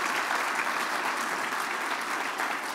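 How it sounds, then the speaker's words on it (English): Dense, steady applause from an audience at an industry event honoring the organizing team, a continuous wash of many hands clapping at even loudness throughout. "Fern and all of the team at Achilles a great round of applause for doing all the hard work they do."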